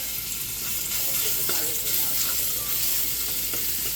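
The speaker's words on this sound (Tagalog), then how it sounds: "Magigisa na po tayo ng ampalaya" Bitter gourd (ampalaya) sautés in a hot pan, giving a steady, loud, close sizzle with faint scrapes of stirring throughout.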